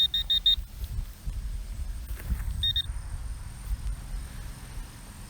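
Short high-pitched electronic beeps from a metal detector in a quick burst of four, then a second brief pair, over quiet outdoor rustling at an old farmhouse in southwest Wisconsin.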